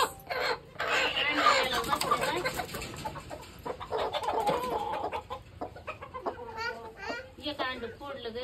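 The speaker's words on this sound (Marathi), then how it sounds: "ही कोंबडी खुड झाली." A broody hen clucks repeatedly in close, rapid bursts in a village coop, with people talking intermittently around it.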